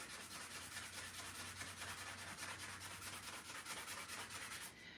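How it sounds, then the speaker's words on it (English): Handles are rubbed with 220 grit sandpaper in a steady, continuous, close scratching rasp of back-and-forth strokes, with no talking. "a little 220 grit here over the handles"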